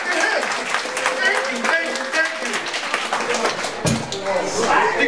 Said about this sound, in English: I wanna see everybody clapping